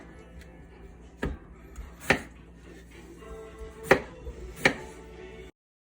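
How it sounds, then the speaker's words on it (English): Potatoes are cut into same-size pieces with a knife, giving four sharp, distinct chops on a board at uneven intervals, close and fairly loud against a quiet kitchen background. "I want to make sure they're all cut relatively the same size so they cook around the same time"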